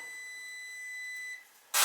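A handheld device beeping during work on Taco zone valves, a steady high electronic tone held for over a second, then a brief lull before a sudden loud burst of noise.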